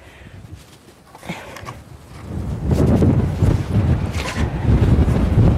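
Wind blows outdoors in windy weather where papercrete blocks are being laid. A low, rushing buffet swells from quiet to loud and keeps gusting steadily, close to the microphone.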